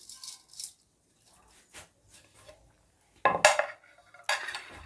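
Spices for a Lahori fish fry being mixed together in a bowl, sparse light clinks and scrapes of a utensil against the dish, with a couple of louder clatters toward the end.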